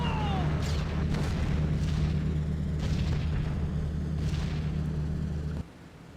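Flak bursts boom around a B-17 bomber in B-17 The Mighty 8th, several dull thuds over a steady low engine drone, which cuts out abruptly near the end.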